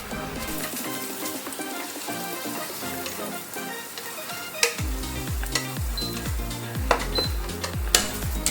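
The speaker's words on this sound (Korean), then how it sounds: "먼저 마늘 두 알 다져서 기름에 볶아줍니다" Minced garlic stir-frying in oil for char kway teow, a close crackling sizzle that thickens halfway through, punctuated by sharp scrapes and taps of a utensil against the pan, no talking.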